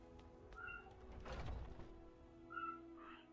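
A cat meows faintly in the background a couple of times, short and distant, with a dull thump in between over a low hum, while Skyrim gameplay plays.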